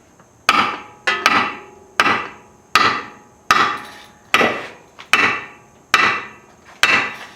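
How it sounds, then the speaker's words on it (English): A hammer strikes wood nine times in a slow, steady rhythm, each blow loud and close with a brief ringing decay. "It's a hammer."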